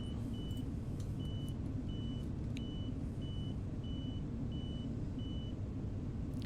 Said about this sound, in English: beeping from the autopilot